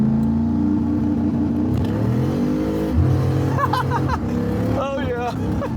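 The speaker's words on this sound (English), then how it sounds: "We should do one last launch. Trans brake activated." A 1000 hp turbo Trans Am launches off the trans brake: a loud, held engine drone builds, then surges and climbs in pitch, while people talk over it inside the car.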